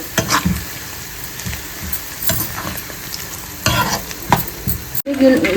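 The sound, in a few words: ginger pieces frying in oil for ginger pickle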